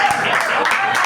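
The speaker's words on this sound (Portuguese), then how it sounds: "Pode aplaudir o nome do Senhor." Congregation clapping together in a church service, a dense steady patter of many hands filling the room, with voices mixed in underneath.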